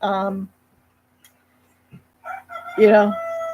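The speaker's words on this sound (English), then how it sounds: "Oh, did you hear my rooster?" A rooster crows briefly at the start, then after a pause a person speaks nearby.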